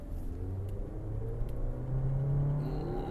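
A 2022 Volkswagen Tiguan SE's engine accelerates, a low, steady rumble that slowly rises in pitch, heard from inside at moderate volume with no speech.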